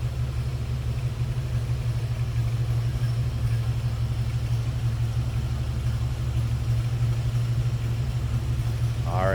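A 1983 Oldsmobile Cutlass Hurst/Olds engine idles with a steady low rumble throughout, close and constant, with a brief rising whine at the very end.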